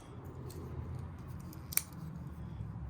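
A single quick metallic snip of scissors cuts through a low background rumble, brief and close.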